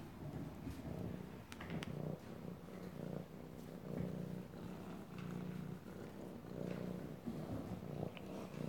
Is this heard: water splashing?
no